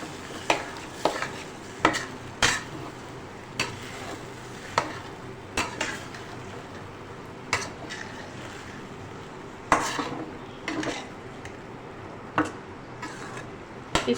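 Boiled chickpeas with their cooking water being stirred in masala in a kadhai on a stove, a spoon scraping and knocking against the metal pan in irregular strokes over a soft sizzle, with no talking.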